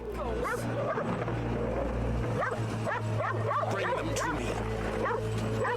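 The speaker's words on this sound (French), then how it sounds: "Va-t'en, le beau toutou" A dog barks and yips in rapid repeated bursts, loud and continuous over a steady low hum, within a French-dubbed Goosebumps episode about a guest's dog.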